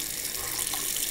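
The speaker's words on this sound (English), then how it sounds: "Stick it in and squirt water in it until it runs dry." Water squirted from a syringe through a Pilot Metropolitan fountain pen during cleaning, a steady close hiss of running liquid lasting about a second with no talk.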